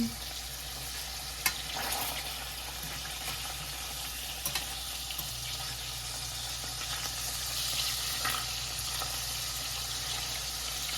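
Meatballs shallow-frying in oil in a pan give a steady, close sizzle and crackle for the whole stretch, with a few small pops and utensil taps standing out.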